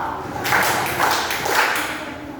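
Children in an elementary math class clap together in three loud, evenly spaced bursts over a faint room background.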